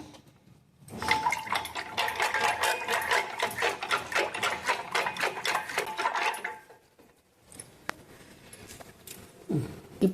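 Rapid rhythmic clinking of a spoon whisking rose syrup into a drink in a glass for several seconds, then quieter scattered taps and a brief splash.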